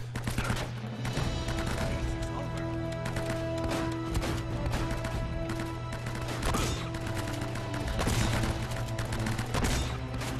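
Rapid, sustained gunfire from a firefight in Uncharted: Drake's Fortune, dense overlapping shots and bursts that keep steadily loud across the whole stretch with no pause.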